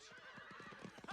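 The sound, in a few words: horse neighing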